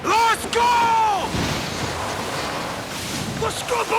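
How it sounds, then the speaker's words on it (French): Stormy wind and heavy ocean waves at sea roar continuously with gusting rushes and crashing surges, while shouting voices rise over the noise at the start and end. "Travaillez là-haut avec ce vent du diable!"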